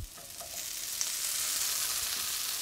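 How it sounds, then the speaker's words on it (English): Cherry tomatoes and minced garlic hit a pan of hot olive oil, giving a loud, steady, close sizzling hiss that holds evenly throughout. "Now we're gonna add our beautiful cherry tomatoes."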